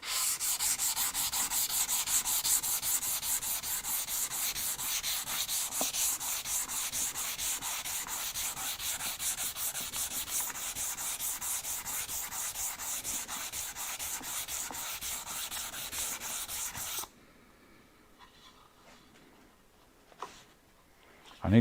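Power sander working on wood with a dust extractor hooked up, a steady loud buzzing rasp running continuously for about seventeen seconds before cutting off, followed by a quiet room with a faint knock and a click near the end.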